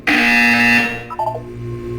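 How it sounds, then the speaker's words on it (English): A loud electronic buzzer in the video game Portal 2 sounds in a sustained harsh tone for under a second, then a short descending series of beeps follows while a faint hum continues. "You will hear a buzzer."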